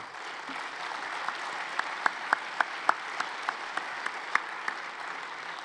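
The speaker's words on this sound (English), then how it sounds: "could we give a big round of applause to our committee members?" A conference audience at a mass timber event applauds its committee members. A soft, dense wash of clapping fills the hall, with a handful of crisp, louder claps from nearby hands popping out in an uneven rhythm.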